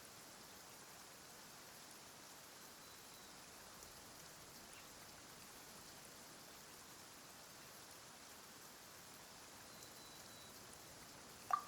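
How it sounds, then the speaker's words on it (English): Steady, even rain hiss falls in the video game Genshin Impact, a soft continuous wash with no voices and a single brief click near the end. "Why is it raining all of a sudden?"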